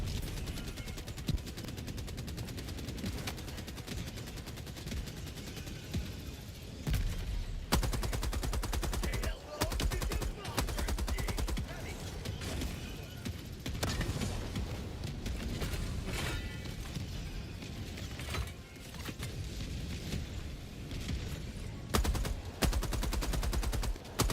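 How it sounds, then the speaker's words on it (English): Helldivers 2 battle with mortar fire mixed into continuous heavy gunfire, booming impacts and rapid bursts, loud and sustained throughout with no clear pauses. "thank God for my mortar"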